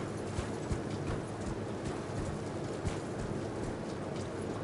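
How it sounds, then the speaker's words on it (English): Horse hooves clip-clop steadily in the video game Elden Ring, a continuous trotting rhythm over a dense ambient game soundscape, close and moderately loud with no talk. "And now I have a horse."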